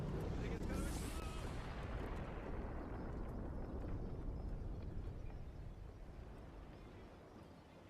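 A monster explodes in the Guild Wars 2 video game with a loud, broad blast that rumbles on and slowly fades over several seconds.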